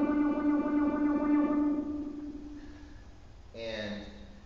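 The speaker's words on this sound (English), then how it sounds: "or that was phaser" Electric violin run through a phaser effect, sustained bowed notes with a sweeping, swirling tone, loud and close, ending with a brief higher swelling phrase.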